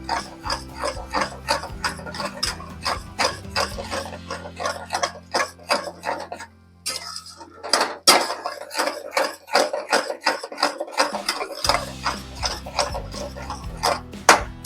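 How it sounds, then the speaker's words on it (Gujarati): Edible gum (gond) puffs and fries in hot ghee, making a steady crackle of small sharp pops and sizzles with a brief quieter gap partway through, close and moderately loud. "અવાજ પણ આવી રહ્યો છે તમે જોઈ શકો છો એકદમ આપણો ગુંદ સરસ ફૂલી ગયો છે"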